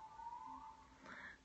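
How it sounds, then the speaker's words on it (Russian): A kitten or cat gives one soft, drawn-out meow, faint and close in a quiet bedroom, with a rising tail at the end. "Котёнок, кошка."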